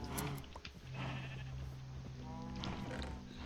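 Sheep in the video game Minecraft bleat several times, wavering nasal calls over a low background hum and faint mechanical noise, close and clear.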